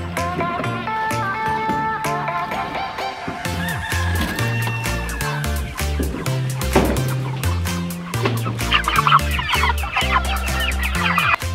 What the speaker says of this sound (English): These chickens right here are my second and last batch of broiler chickens for the year.